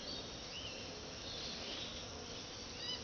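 A honeybee swarm being captured hums around the hive and frames in a faint, steady, diffuse buzz that holds throughout with no voices.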